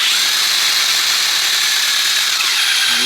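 A power drill fitted with a 1/2-inch bit bores into wood for a wooden dashboard project, giving a steady, close, continuous whir with no break or talk.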